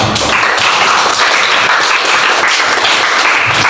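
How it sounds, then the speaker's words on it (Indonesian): Students in an Indonesian classroom give a lively round of applause, a dense, steady wash of many hands clapping close by, filling the whole short stretch. "Bapak ingin memberikan reward kepada semuanya dengan tepuk tangan yang meriah."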